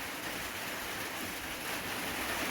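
Light winter rain falls outside, giving a steady, even wash of soft patter that continues without any break and without any talking.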